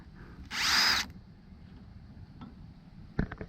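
Power drill driving a T25 Torx bit on a Craftsman lawn tractor, one short loud whir of about half a second, followed by faint clicks and quiet handling noise.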